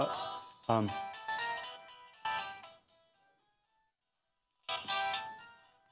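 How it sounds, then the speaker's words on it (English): A Verizon phone ringtone plays a bright electronic melody in bursts, pausing briefly before starting again. "Verizon ringtone."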